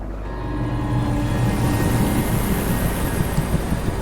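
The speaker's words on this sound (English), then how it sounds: "I can hear a helicopter" A helicopter in a video game, a low rotor drone that swells in as the craft draws near and then holds a loud, steady whirring hum.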